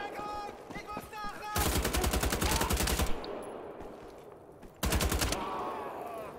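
Two bursts of rapid automatic gunfire from the video game Wolfenstein: The Old Blood, each a loud, evenly spaced rattle lasting over a second, separated by a quieter stretch of game ambience with faint background sounds.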